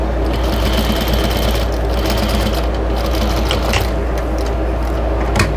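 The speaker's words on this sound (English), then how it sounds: "I'm going to put my needle down on the corner and top stitch" A domestic sewing machine running steadily to topstitch the edge of a fabric chicken potholder, closing the turning hole at an eighth-inch seam: a continuous, close mechanical whir with a constant low hum throughout, no voices.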